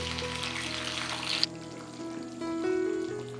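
Reduced braising liquid from beer-braised beef ribs is poured over the ribs in a clay pot lined with fried scallion segments, a quiet close sizzle and trickle that cuts off abruptly, followed by faint simmering.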